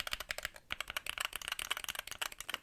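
Fingers type quickly and continuously on a gaming keyboard with an AZERTY ISO layout. The key clicks are crisp, close and irregular, with a brief pause in the middle.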